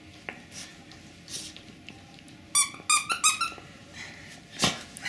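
Several quick, high squeaks from a squeaky dog toy, its squeaker buried deep inside, come in a short burst, with soft rustling and handling noises around them.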